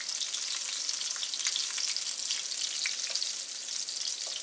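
Pecan-crusted goose pieces frying in a pan, a steady bright sizzle and crackle with small pops throughout, close and continuous with no talking.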